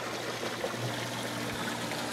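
Irrigation water runs through a maize field, a quiet, continuous trickling flow with a low steady hum beneath it.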